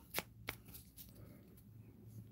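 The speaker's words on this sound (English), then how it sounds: "So I'm going to shuffle this one back in." Cards shuffled for the Pulp Invasion board game, a few quick crisp riffles at the start, then a softer continuing rustle of cards being handled, close and quiet with no talk.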